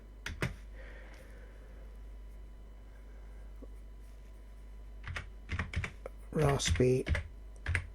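Keystrokes on a computer keyboard while entering a command on a Raspberry Pi via remote desktop, heard as scattered clicks and then a quick, dense burst of typing near the end, alongside talking.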